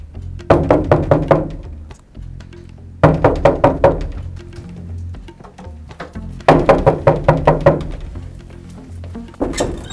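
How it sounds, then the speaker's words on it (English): Three loud bursts of rapid knocking pound on a wooden door, each volley of several thuds followed by a short pause, with a brief final knock at the end. "why are you knocking down my door?"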